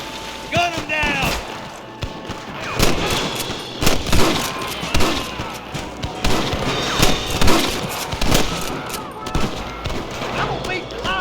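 Gunfire at rustler guards in Red Dead Redemption: repeated sharp gunshots in uneven volleys, close and loud, mixed with shouting voices and game effects throughout.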